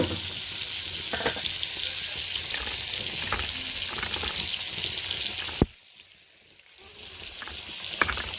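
Onions, green chillies and tomato fry in a pan with a dense, steady sizzle that cuts out abruptly partway through, then creeps back faintly with a few light knocks.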